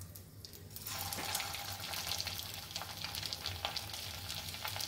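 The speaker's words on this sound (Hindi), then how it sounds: "ये तेल गरम हो गया है। अब इसमें मैं बॉल्स डाल रही हूँ।" Rice balls drop into hot oil and start frying, a dense crackling sizzle that rises after a brief quiet start and carries on steadily up close, with no talk.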